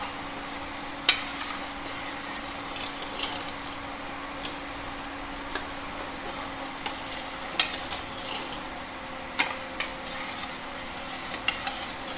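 Sugar syrup boils on a high flame in a pan, a soft continuous bubbling hiss with faint clicks and taps scattered through it and no talk.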